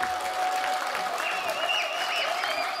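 A festival audience at a Slovak folk festival applauds folk performers with dense, steady clapping that stays loud and even throughout, without a pause.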